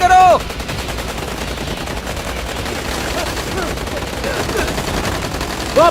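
Sustained automatic gunfire in an action movie battle, a dense, loud, continuous rattle of rapid shots filling the scene, with brief tonal effects at the start and end.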